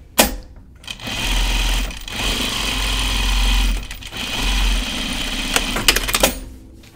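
A sewing machine stitches a jeans pocket piece onto the wrong side of the pants: several close, loud bursts of fast mechanical whirring separated by brief pauses, with no talking.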